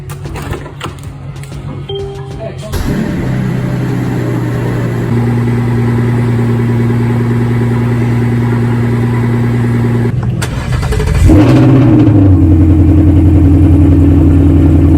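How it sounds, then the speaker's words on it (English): A Maybach car engine runs steadily and close, with the revs rising as the car is moved, then a brief shift in tone near the end as it pulls away; no voices. "We are moving the cars now because the Maybach does need gas"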